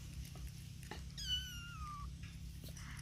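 An orange kitten about one month old gives a single clear, drawn-out meow with a falling pitch, close by over a low steady background hum, with a few faint knocks around it.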